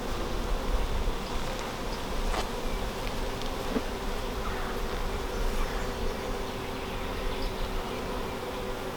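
Honey bees crawl over a frame during the first inspection of a new hive storing yellow, orange and red pollen, their dense buzz close and continuous, with a few brief knocks and scrapes.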